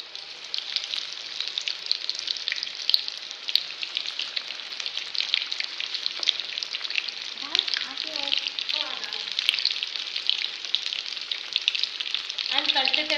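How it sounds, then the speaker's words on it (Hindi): Shrimp deep frying in hot oil over a medium flame, giving a steady, close hiss and crackle of sizzling with bursts of bubbling and faint stirring. "अब इसे डीप फ्राई करने वाले"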